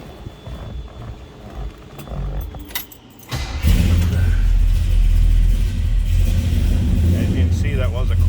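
Cold start of a 1966 Chevrolet Impala SS two-door hardtop engine: keys jangle briefly, then the engine catches with a loud rumble and settles into a steady, deep idle close by.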